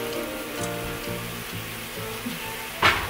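Kimchi fries in a hot pan for healthy kimchi fried rice, a steady close sizzle running throughout, with faint background hum and a brief clatter near the end.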